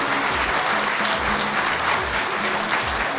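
Steady applause from an audience at a signing ceremony for Captain Ibrahim Traoré's transition charter, a dense, sustained clapping crowd heard alone.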